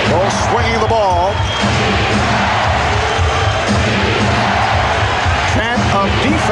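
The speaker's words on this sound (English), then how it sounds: "Chant of defense from the crowd." Arena crowd at the 1996 NBA Finals between the Chicago Bulls and Seattle SuperSonics chants steadily and loudly, a dense rhythmic roar filling the whole stretch beneath a commentator's voice.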